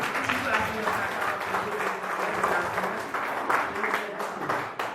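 A church congregation applauds in a continuous wash of clapping, with voices mixed into the sound throughout. The level holds fairly even with small swells.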